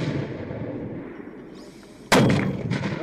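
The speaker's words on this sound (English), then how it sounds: "We are firing direct fire from the 81mm mortars Dutch" A Dutch 81mm mortar on a firing range fires a single loud, sharp blast partway through, with a reverberating tail that rolls on after a low rumble of the range beforehand.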